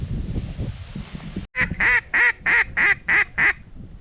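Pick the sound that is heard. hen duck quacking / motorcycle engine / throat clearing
hen duck quacking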